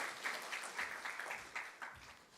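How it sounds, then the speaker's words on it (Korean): Church congregation clapping during a Sunday morning service, a faint, distant patter of hands in loose bursts that fades over a couple of seconds. "우리 잘 갔다 오라고 박수 한번 해주시겠습니다"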